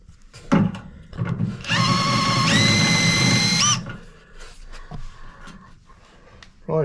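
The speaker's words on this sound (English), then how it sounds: "I'll drill these the rest of the way out." A power drill whirs for about two seconds drilling out fasteners during fiberglass hood and fuel system removal, its pitch stepping up midway, between brief bumps and handling noises.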